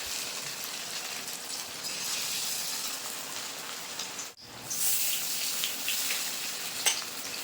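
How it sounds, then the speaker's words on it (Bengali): Spice-marinated fish pieces frying in hot oil, a steady close sizzle and crackle that briefly dips as a piece goes into the pan and then flares up again, with no talking. "এখন যে মশলা মেখে রেখেছিলাম সেই মাছটা কিন্তু এক একটা করে দিয়ে দেবো আমি তেলের উপরে একটা মাছ নেবো তেলের উপরে এভাবে ছেড়ে দেবো"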